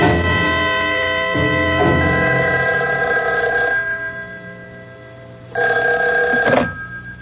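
An old-style telephone bell rings in two bursts within a radio drama, the first ring long and trailing off, then a short second ring, close and clear with no voices.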